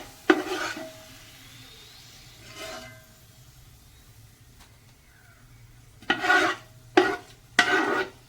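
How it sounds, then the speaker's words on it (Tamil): Onions fry in oil in a pan for Kerala-style chicken biryani, with a faint sizzle under a few bursts of scraping and stirring, the strongest coming in a quick cluster near the end. "இந்த மாதிரி வெங்காயம் ப்ரௌன் கலர் ஆகிற வரைக்கும் நல்லா வறுத்துக்கோங்க"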